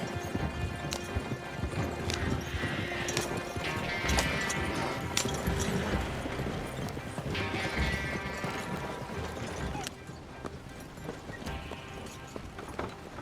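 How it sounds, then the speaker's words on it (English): A horse-drawn wagon in Red Dead Redemption 2 rolls to a stop, with steady close hoof clip-clop, rattling wheels and a brief whinny, then quieter movement near the end. "Stop the wagon just ahead."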